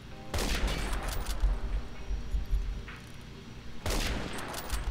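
Gunfire in the online shooter Phantom Forces, with two sharp loud bursts a few seconds apart over a low rumbling game background.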